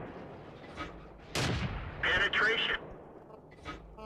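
Tank cannon shots in World of Tanks aimed at a Hetzer, two loud broadband blasts close together near the middle, with fainter combat noise and a later softer report under faint talk.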